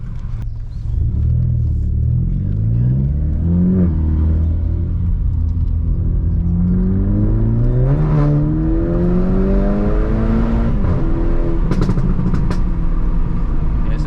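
A small engine in a modified VW Polo GTI drones steadily while driving, revving high, its pitch rising and falling through gear changes, loud and close with a constant rumble.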